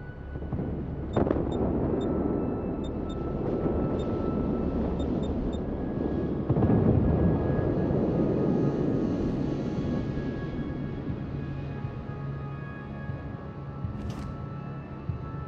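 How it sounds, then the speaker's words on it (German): Aircraft drone through a naval combat video game as a battleship goes down, a steady broad roar filling the whole stretch with a louder swell midway and a few faint tonal pings, no talk over it. "Flugzeug in der Luft."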